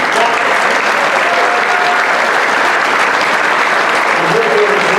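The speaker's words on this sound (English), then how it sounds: "Give them a round of applause." Steady, loud applause from an audience thanking the performers at an evening stage show, filling the whole stretch with no pause.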